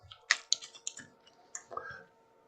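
Playing cards being shuffled by hand at a table: a series of soft, quick riffling clicks and flutters in short bursts, fairly close and quiet, with no speech over them.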